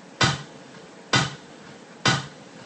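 Three sharp, snappy hits spaced about a second apart, each a layered snare-like crack with a short noisy tail, alone; a snare sound built from layered table hits.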